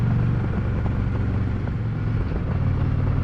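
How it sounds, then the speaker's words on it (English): A Harley-Davidson Road Glide Ultra motorcycle runs at slow town speed, its engine and intake giving a steady, loud, close low rumble. "intake noise at slow speeds around town"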